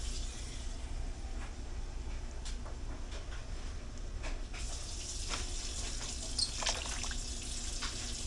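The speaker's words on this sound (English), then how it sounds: "add some water in there to help with the absorption of that TVP." Water runs steadily into a container of TVP (textured vegetable protein) in a kitchen, producing a continuous soft splashing and pouring wash for several seconds, close and moderately quiet, with no talking.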